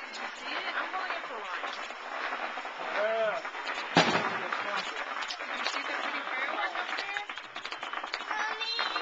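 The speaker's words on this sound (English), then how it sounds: "Do you see the pretty fireworks up there?" Fireworks burst overhead at an outdoor summer event, with a sharp bang near the middle among scattered crackling pops, all under steady nearby talk and crowd chatter.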